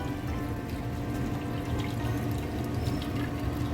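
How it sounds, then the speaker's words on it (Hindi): Cooked yakhni, a mutton broth, is drained in a steady, continuous pour of liquid that splashes evenly throughout with no talking. "यखनी को ड्रेन कर लेते हैं"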